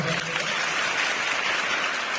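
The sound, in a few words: schoolgirls applauding loudly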